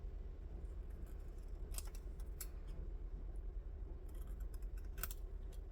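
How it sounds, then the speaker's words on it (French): Scissors cut paper for a handmade pop-up card, giving a few quiet, close snips and crisp blade clicks over a soft, steady background. "Et avec mon ciseau, je vais venir découper."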